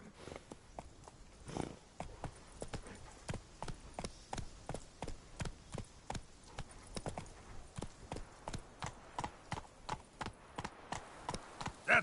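Galloping hooves of Roach, the horse in The Witcher 3, pound in a steady clip-clop rhythm, close and alone, with no voices over them.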